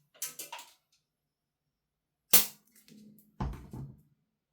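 A Vorsk VMP1 gas blowback airsoft gun fed from a KWA gas magazine gives a single sharp, loud report at close range, trailed by a short mechanical rattle. A second, softer crack follows about a second later.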